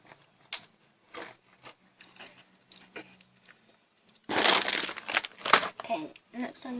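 Doritos chips being eaten with crunchy bites and crinkling of the bag, a loud burst of crackling in the second half after quieter rustles, with some talking.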